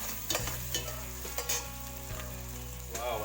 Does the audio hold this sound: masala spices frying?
yes